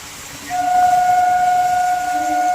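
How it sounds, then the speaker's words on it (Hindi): An Indian railway train on the Etawah–Mathura route passes with a long, loud, steady horn blast sustained over a rumbling background, heard from nearby. "ये है अनन्या एक्सप्रेस, नहीं ये और कोई ट्रेन है"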